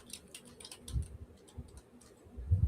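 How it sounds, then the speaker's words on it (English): Typing on a computer keyboard, a short run of light, irregular clicks and taps close by, quiet with a few thumps toward the end. "And then I'm going to type in"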